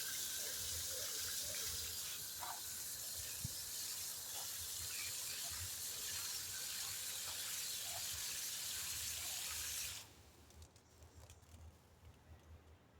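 Water slowly drains through the soil of a freshly planted ginger pot after watering, a steady close trickle and hiss that runs alone for about ten seconds, then cuts to quieter faint dripping.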